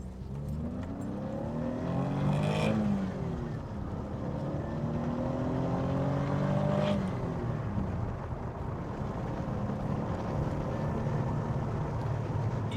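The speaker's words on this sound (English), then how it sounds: "let's do our usual pull and we can see how the engine performs." Renault Alpine A310 with a Holley carburettor conversion accelerating hard on a pull, engine note rising steadily through the revs, loud and sustained with a gear change midway.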